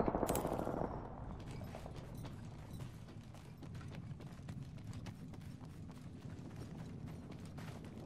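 Gunfire in the Apex Legends video game: a sharp burst opens the scene, followed by a long rapid series of clicking shots that rattle on steadily at moderate loudness over a low background rumble.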